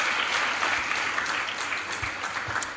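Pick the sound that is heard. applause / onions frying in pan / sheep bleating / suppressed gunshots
applause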